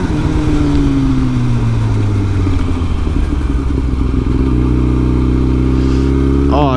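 A Yamaha R6 600cc motorcycle engine drones steadily while riding, its pitch climbing then dropping as gears shift, loud and close with continuous wind and road noise throughout.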